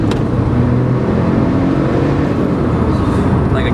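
A 2007 Porsche 911 Turbo accelerates hard, its engine roaring loud and steady from inside the cabin for the whole stretch, with no talking.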